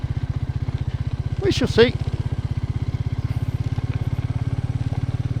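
A Royal Enfield Meteor 350 road motorcycle thumps along steadily on bumpy off-road trails, its even single-cylinder pulse continuous and close throughout, with a rider speaking briefly over it near the start.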